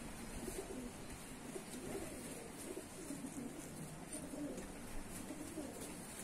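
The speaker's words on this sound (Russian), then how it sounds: "Опытные голубеводы все отлично знают эту птицу." Rock pigeons cooing in a loft in Tbilisi, Georgia, with repeated soft low coos and burbles overlapping steadily against a light background hiss.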